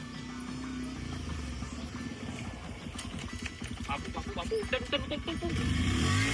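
A motorcycle engine runs close by with a steady, pulsing low-end throb, rising in loudness toward the end as it revs.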